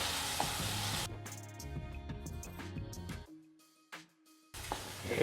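Spices including red chilli powder and jaggery sizzle and crackle in a hot pan, with a brief lull partway through before the sizzling returns strongly.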